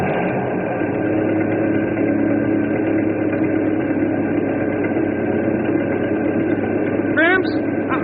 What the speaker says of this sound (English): I'll crank up this old engine, and we'll cross over and pick them up.